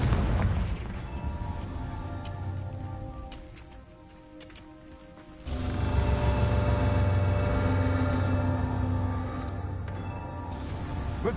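A Confringo fire spell detonates in Hogwarts Legacy, a loud booming blast with crackling fiery rumble that swells again midway and sustains through to the end.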